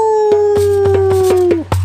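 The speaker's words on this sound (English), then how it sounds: "that well was guarded by a mean," A single long wolf howl glides slowly downward and fades out, loud and close, with rhythmic thumps beating under it.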